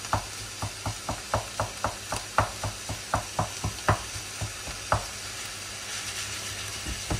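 Ground meat for a white lasagne sizzles in a hot pan while a utensil stirs and breaks it up, producing a steady run of close scraping taps over a constant frying hiss.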